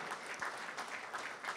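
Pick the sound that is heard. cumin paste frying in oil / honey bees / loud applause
loud applause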